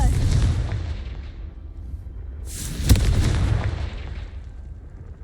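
The Confringo spell in Hogwarts Legacy goes off as a deep, rumbling explosion. A heavy boom hits at once, a second sharp blast lands partway through, and a rolling low roar trails off.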